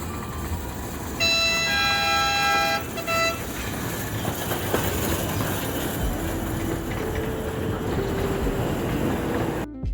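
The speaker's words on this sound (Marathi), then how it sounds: "तिथे छोटीशी ट्रेन आहे, तुम्ही तिथं ट्रेनमध्ये बसण्याचा फीलही मुलांना देऊ शकता." A small children's ride-on train chugs along with a loud tooting horn near the start, followed by a steady rumble and a faint melodic chime.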